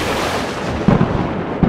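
Thunder rolls as a low, broad rumble, with a couple of heavier booms toward the end and no voices.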